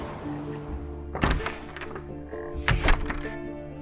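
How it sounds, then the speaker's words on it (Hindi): A door thuds shut and is locked, two muffled knocks about a second apart with faint rattling, quiet and close indoors. "मैंने दरवाजे को ताला लगाया"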